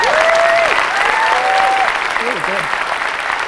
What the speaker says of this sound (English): I think we should all collectively clap it up for these fuckers